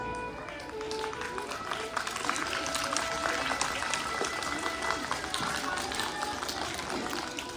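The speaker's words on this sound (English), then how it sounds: "Please give them a big round of applause." A crowd at a school assembly claps for children, producing a sustained, fairly even patter of applause with some voices mixed in.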